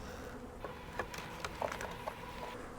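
Honey bees from a small swarm of about four frames buzz faintly and steadily inside spare hive boxes, with soft patters and light taps from handling the frames.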